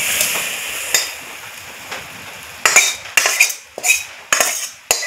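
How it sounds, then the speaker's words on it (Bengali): A metal wok is set down on a stove with a few loud close clanks and scrapes of metal, preceded by quieter kitchen handling, no voices. "উনুনে কড়াই বসিয়ে দিয়েছি।"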